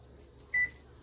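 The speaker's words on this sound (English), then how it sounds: "Set my timer for 15 minutes." A kitchen timer gives a single short electronic beep while being set during biscuit and sausage gravy cooking, clear over a quiet room hum.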